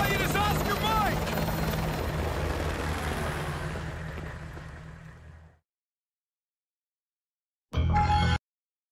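Helicopter in Call of Duty Modern Warfare 2, a loud steady rotor roar that fades out over about five seconds, followed by silence and then a short loud burst of rotor noise.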